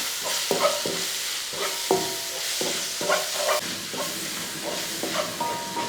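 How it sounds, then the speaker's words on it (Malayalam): Spice powders get stirred into pepper chicken frying in a pan, steady sizzle and hiss beneath a run of spoon scrapes and knocks against the pan every second or so, close and without talk. "ഈ പൊടികൾ ചേർത്തതിന് ശേഷം ഒന്ന് ഇളക്കി കൊടുക്കുക"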